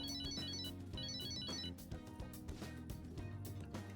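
A phone rings in the video game Persona 5 Royal, with repeated chiming tone bursts in short rhythmic groups over in-game background music, moderately loud, with no talking.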